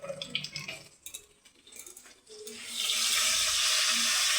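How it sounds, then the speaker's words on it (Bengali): Tap water runs steadily over bay leaves in a kitchen sink, a close, bright rushing stream that starts after a few light clinks and drips and then continues alone. "তেজপাতাগুলোকে একটু ধুয়ে দেবো"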